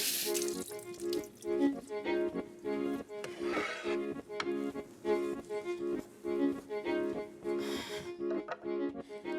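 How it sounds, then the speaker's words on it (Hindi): Tap water runs steadily in a kitchen while something is washed under it, with faint splashing beneath a louder tonal background. "ओके, ये धो लेती हूँ मैं।"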